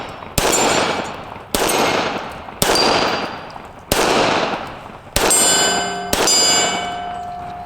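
Six sharp gunshots from a Smith & Wesson Shield 380 EZ handgun at an outdoor range, fired at a steady pace about a second apart, each loud crack trailing into a long ringing decay, the last two with a metallic ring.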